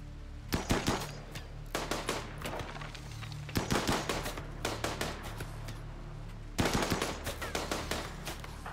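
Rapid bursts of gunfire in a RimWorld firefight, clusters of sharp cracks and automatic volleys repeating in several waves, steady and fairly loud over a low background hum.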